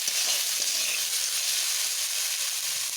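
Banana stem and jackfruit seeds fry in a pan with salt, producing a close, steady, even sizzle that holds throughout with no talking.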